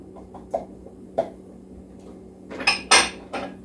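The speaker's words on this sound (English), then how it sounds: "I'm going to dump in the ground beef" Pre-cooked ground beef dumped into pasta sauce for rigatoni and stirred, heard as a few soft clinks and then louder scraping, clattering spoon-on-pot strokes near the end.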